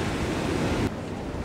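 Ocean surf at a beach in the Emirates rushes as a loud broad wash of noise that drops abruptly to a softer hiss partway through, with no voices.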